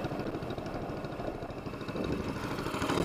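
A vehicle fitted with an SPS longtail exhaust idles with a low, steady rumble and slight pulsing throb at close range, with no voices.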